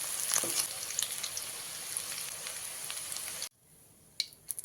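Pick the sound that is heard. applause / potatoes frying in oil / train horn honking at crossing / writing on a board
potatoes frying in oil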